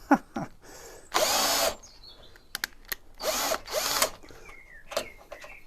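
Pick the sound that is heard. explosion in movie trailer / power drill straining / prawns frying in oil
power drill straining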